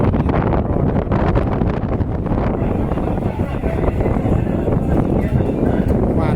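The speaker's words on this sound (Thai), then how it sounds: "ลมพัดจัด" Strong wind gusts buffeting the microphone at an outdoor cattle event, a continuous loud rumbling roar with rustling that persists throughout, slightly easing after the first few seconds.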